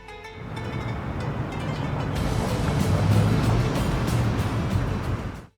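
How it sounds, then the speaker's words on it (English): Steady broadband rumble of long trucks on an asphalt highway in Afghanistan, with low engine drone, a continuous rolling roar that swells slightly midway and fades at the end. "The sound of wheels rolling over asphalt, the engines of long trucks moving back and forth across the land."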